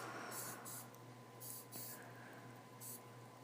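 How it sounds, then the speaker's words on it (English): Bedhead Hardhead hairspray misted onto the roots of hair in several short hissing bursts, two quick sprays, then two more and a final one, faint and close against a quiet background hum. "I'm taking my Bedhead Hardhead hairspray and just giving it a good spray onto the roots"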